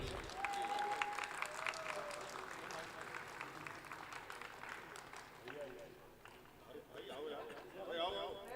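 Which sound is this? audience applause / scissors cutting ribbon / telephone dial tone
audience applause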